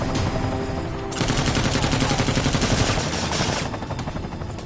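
In Deus Ex Mankind Divided, rapid machine-gun fire rattles in a fast, steady stream over a helicopter's droning rotor, loud and close, with no voices over it.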